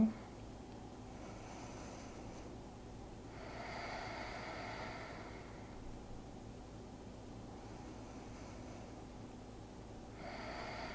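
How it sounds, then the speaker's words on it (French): Slow, deep breaths at the close of a core-strengthening workout, each long airy inhale and exhale rising and fading in a calm, quiet room, with soft background hiss. "Encore 2 belles respirations pour clôturer"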